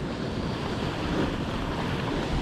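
Waves washing against a rocky shore on a very calm day with a forecast of about half a metre of swell, heard as a steady, continuous wash with some wind noise on the microphone and no voices.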